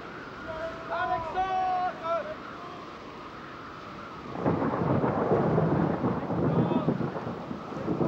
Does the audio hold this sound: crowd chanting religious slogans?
no